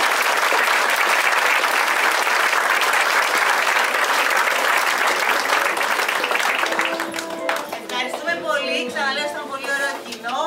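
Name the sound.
audience applause for the play's writers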